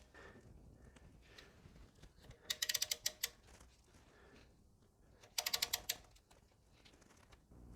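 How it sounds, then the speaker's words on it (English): An oil filter socket on an extension tightening the oil filter of a Toyota RAV4 during an oil change, with two quick bursts of sharp metallic ratchet clicks over a quiet background. "we're going to take our oil filter socket on our extension, and we're going to tighten it the 3/4 of a turn past that point in a clockwise direction"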